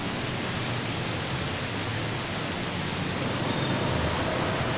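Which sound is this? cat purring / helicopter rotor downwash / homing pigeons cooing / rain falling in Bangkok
rain falling in Bangkok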